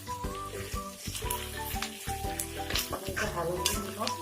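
Onions fried to light pink with ginger-garlic paste for an Assamese pork curry sizzle steadily in the pan as they are stirred, heard under background music and a voice.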